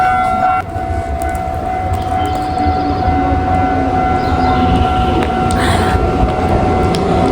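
A train departs a station in Japan with a loud, continuous rolling rumble and a sustained tonal whine, steady throughout with no speech.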